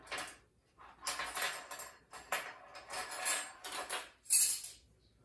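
Cookie dough with a quarter teaspoon of vanilla mixed by hand in a bowl for a small batch of chocolate chip cookies, giving repeated scraping and clinking bursts of utensil against bowl with short pauses between strokes, close and fairly quiet.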